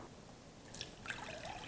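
Soft trickling and dripping as water drains from rinsed white rice sitting in a sieve, faint and close, with a few brighter drips near the end.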